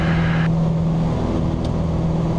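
Small training airplane engine at full throttle on a crosswind go-around, a steady loud droning roar with a low constant tone filling the cabin, no talk over it.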